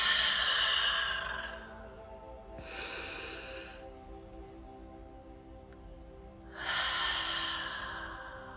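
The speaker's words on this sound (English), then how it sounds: "So if I could have you just take a deep breath with me" A deep breath drawn in and let out during a calm relaxation exercise, heard as three soft, airy, breathy swells separated by quiet pauses, close and alone with no talking.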